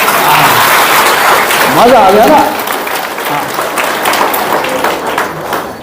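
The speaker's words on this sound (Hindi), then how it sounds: "अब फेल होने की खुशी में जोर से ताली बजाओ" An audience at a spiritual talk claps loudly and continuously for a few seconds before the applause thins out, with a speaker's voice over it.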